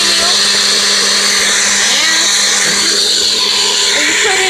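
A blender whirs steadily, mixing a banana protein smoothie made with almond milk; the loud motor hum holds constant throughout.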